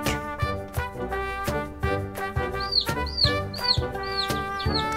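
A farm chick's clucking and cheeping, in short repeated calls over a rhythmic musical background.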